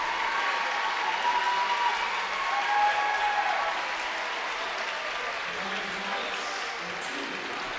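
Crowd applause rises at a high school basketball game as the senior player leaves the court. The clapping is sustained and even, with a general crowd murmur underneath.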